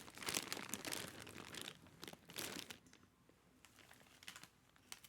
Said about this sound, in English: I don't think they want to hear us crunching on stuff